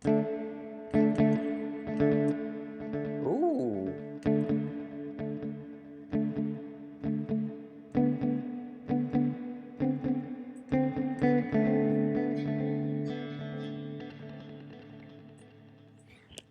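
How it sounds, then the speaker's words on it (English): Electric guitar notes and strums through a Joyo Atmosphere reverb pedal on its echo-verb setting, drenched in echo and reverb, each attack trailing off into repeating tails; a single short exclamation is heard. "Echo verb is echo and reverb."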